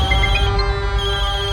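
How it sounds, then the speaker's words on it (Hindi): A mobile phone rings with a steady electronic tone over a constant background hum, continuous and fairly loud, with no voices. "जब मैं किसी को फोन करूं तो वो उठाता नहीं है, और अभी टे टे टे टे टे टे करके बज रहा है।"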